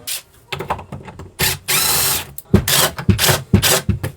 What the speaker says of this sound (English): I'll take these pocket holes out.